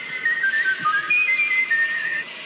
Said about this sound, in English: Why are you whistling Rudolph the Red-Nosed Reindeer?